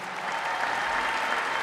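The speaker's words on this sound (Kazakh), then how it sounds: "бір шапалақ қояқшы өнер қырандарына" A Kazakh comedy battle audience applauds the team Öner Qyrandary, with a continuous dense burst of clapping filling the short stretch.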